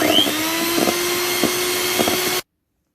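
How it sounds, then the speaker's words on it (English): An electric mixer whisks fresh cream tinted with food colour for a cake, a close steady motor whir with faint tapping of the beaters against the bowl before it stops abruptly. "I'm going to nicely whisk this"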